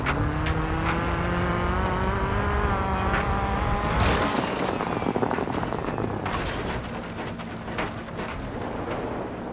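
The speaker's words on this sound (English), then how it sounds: "when I'm revving up the engine" A racing video game car engine revs up and down, a rising mechanical drone that shifts pitch partway through and continues with crackling, rumbling texture, steady and fairly loud.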